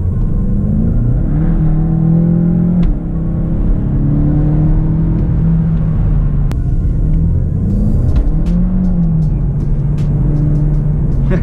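A 285 hp Volkswagen Golf GTE hot hatch accelerates hard in second gear off a roundabout with traction control off, a loud continuous engine drone rising in pitch through the pull, heard from inside the car.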